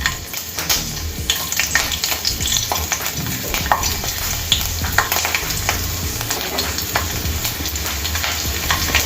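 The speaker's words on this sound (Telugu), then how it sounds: "నూనె వేడైందండి. ఇప్పుడు ఒలిచి పెట్టుకున్న వెల్లుల్లి ఇందులో వేసుకోవాలి." Peeled garlic cloves frying in hot oil for a green chilli chutney, a steady dense crackling sizzle with scattered sharp pops and stirring scrapes, close and fairly loud, with no voices.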